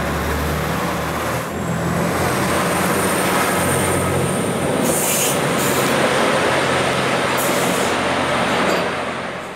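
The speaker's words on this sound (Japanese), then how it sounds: "特急四万十一号はさらに25分、四国の南西方向に走ると土佐線の終点久保川駅に到着。" A JR Shikoku limited express train on the Tosa line in Shikoku, Japan, rolls along the rails with a loud, continuous rumble, a thin high wheel squeal rising over it and occasional sharp clatters.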